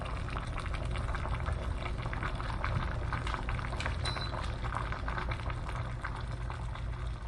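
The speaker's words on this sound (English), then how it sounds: "at 2 minutes, 5 seconds, we've got a full-on boil" A full rolling boil in an AUCOO collapsible travel kettle, a steady dense bubbling and churning of water that stays loud and close throughout, with no talking.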